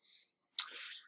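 A single sharp computer mouse click, close and fairly quiet, follows a faint brief tick and trails off in a short rustle.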